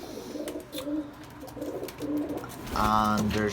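Pigeons, including Birmingham rollers and crossbred birds, coo softly in a loft, with low murmuring calls under a voice and a louder burst of cooing near the end.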